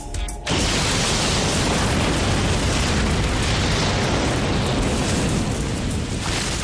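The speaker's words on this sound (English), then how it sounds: "The bomb explodes." A bomb detonates beside a support column at the rear of the Murrah building in Oklahoma City, a sudden massive blast followed by a loud, continuous roaring rumble of destruction.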